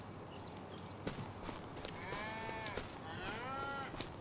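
Holstein cattle in Farming Simulator 25 moo twice in a row, long drawn-out calls at moderate distance over a steady farm ambience, with soft thuds and clip-clops scattered underneath.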